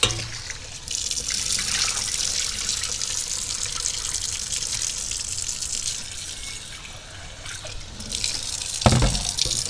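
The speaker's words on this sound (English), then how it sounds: "And we're just going to rinse it more. Make sure we get it nice and clean." Sea moss is rinsed under a running kitchen tap, a close, steady splash of water into a sink with small surges and a brief louder gush near the end, no voice over it.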